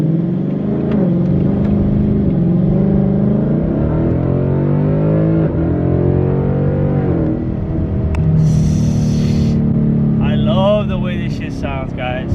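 Ford Mustang engine rumbling and revving while driving in sport mode, a loud low growl that rises and falls through gear changes, heard from inside the car, with someone talking over it near the end.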